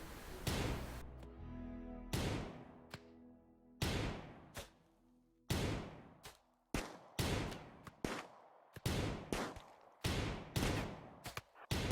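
Gunfire in the colony-building video game RimWorld, with loud sharp shots in irregular bursts and single cracks, each decaying quickly, played back clearly with no talk.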